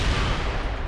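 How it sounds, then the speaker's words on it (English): Rocket and gunfire barrage in the Cold War strategy game World in Conflict, a dense, loud rumbling burst of fire filling the brief moment with no clear gaps. "Attacking the enemy with rockets"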